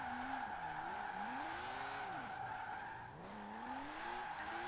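A car drifting in a long continuous slide, tires squealing steadily while the engine note rises and falls, loud and close throughout with no pauses.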